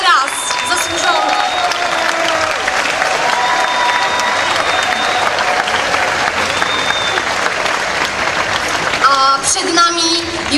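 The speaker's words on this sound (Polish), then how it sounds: "wielkie brawa jeszcze raz, zasłużone" An audience at a stage show applauds loudly and steadily, with scattered cheers and whistles rising above the clapping and a voice breaking in near the end.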